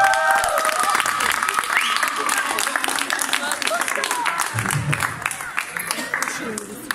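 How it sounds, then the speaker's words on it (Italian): An audience applauds steadily at a serenade event in Qualiano, dense clapping carrying through the whole stretch, with a voice sounding over the crowd near the end. "Gli facciamo un applauso forte!"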